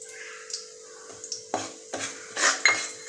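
Wheat flour roasts in ghee for a quick halwa as a spoon stirs it, making irregular scrapes and metallic clinks against the pan over a faint, quiet background.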